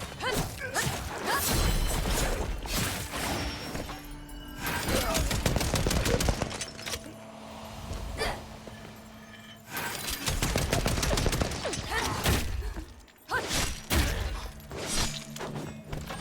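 The machine-gun lance in the video game Wuchang fires rapid, dense bursts of loud mechanical gunfire over several long stretches, mixed with thuds and crashing impacts and game music beneath.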